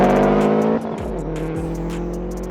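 A 465bhp Subaru Impreza WRX STI and a 480bhp Audi RS3 accelerate hard in a roll race, engines roaring loud and close with rising revs, then stepping through gear changes as the pitch drops and climbs again.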